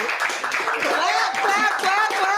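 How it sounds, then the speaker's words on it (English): An audience at a community talk event claps steadily and loudly throughout, a dense continuous patter of hands with voices and a cheer mixed in. "Y'all clap for that."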